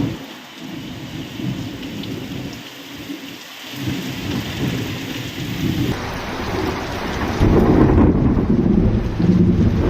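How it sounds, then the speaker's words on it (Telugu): Heavy monsoon rain pours down in Tirupati district, Andhra Pradesh, a steady loud roar of rainfall with deep rolling thunder swelling beneath it and the downpour growing heavier toward the end. "నాగలాపురం, సత్తివేడు మండలాల్లో భారీ వర్షాలు పడుతున్నాయి"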